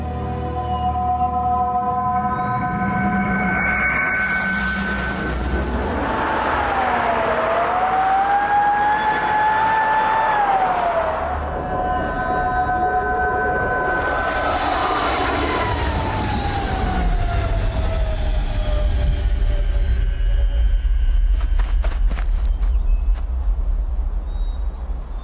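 Spacecraft Victor 1 arrives and comes in to land in a film scene: a loud, sustained roar with rising and falling whining tones and a deep rumble that swells toward the end, with no talk.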